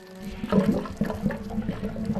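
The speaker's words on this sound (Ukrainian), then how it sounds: "а потім вода в унітазі захлюпала" Toilet water splashing and gurgling in a bowl, close and fairly loud, with several distinct sloshing bursts in an uneven rhythm.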